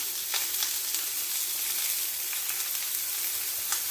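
Shallots sizzle in hot oil with salt, a dense, even frying hiss close to the pan for the whole stretch, broken by faint crackles and light stirring, with no talking.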